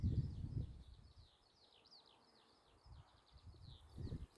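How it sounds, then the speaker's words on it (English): A bird the locals call the strawberry bird sings a repeated series of thin, high chirping notes overhead, faint and distant, with low rustling thumps near the start and end. "can you hear the strawberry bird?"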